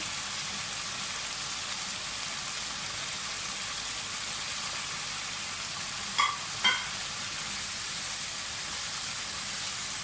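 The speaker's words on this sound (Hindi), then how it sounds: "अब आप इसमें ये जो हमारे कबाब हैं गोला कबाब ये डाल दें।" Gola kebabs sizzling in cooking oil with fried masala, a steady hissing sizzle throughout with two brief clinks of a utensil midway.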